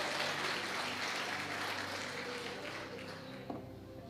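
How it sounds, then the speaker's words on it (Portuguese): A church congregation claps loudly and steadily at a sermon, a dense, continuous wash of hands that eases slightly toward the end. "Quem crê nisso aí, dê uma salva de palmas bem forte"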